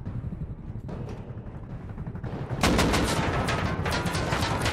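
Rapid bursts of automatic gunfire in the survival game Rust, a snowy raid during a helicopter fight, growing denser and louder partway through, with sharp repeated shots layered over a constant noisy background.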